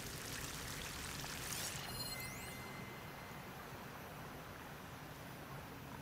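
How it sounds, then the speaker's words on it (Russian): Waterfall pouring in the video game Horizon Forbidden West, a faint steady rushing wash of water with a brief rising electronic sweep near the start. "Тут водопад выливается откуда-то."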